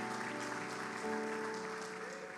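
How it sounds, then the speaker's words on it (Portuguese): A church congregation gives steady, fairly faint applause for Jesus, heard at a distance in a reverberant hall, with soft sustained tones running underneath. "Se é com você, dá um aplauso a Jesus aí"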